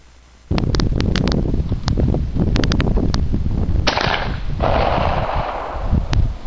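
Mosin rifle gunfire outdoors: a rapid run of loud, sharp cracks with brief echoing tails, ending in a longer rumbling blast.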